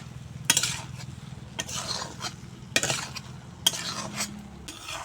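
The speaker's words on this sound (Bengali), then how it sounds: "এবার সয়াবিন আলু মশলার সঙ্গে ভালো করে মিশিয়ে নেব" Fried soybean chunks and potatoes are stirred into masala in a pan. A soft sizzle sits beneath several sharp metal spoon scrapes and clinks against the pan, spaced about a second apart, with no one talking.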